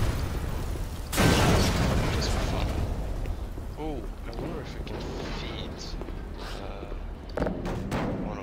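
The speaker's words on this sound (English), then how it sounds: "That explodes." Video game explosion in Black Mesa's sewers, a sudden loud boom with a rumbling tail that fades over several seconds while someone talks quietly.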